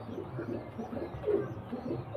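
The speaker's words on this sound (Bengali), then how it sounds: "দেখুন এটা মাদা পায়রা" A female pigeon gives soft low continuous cooing, a gentle murmuring drone close by with slight swells in loudness.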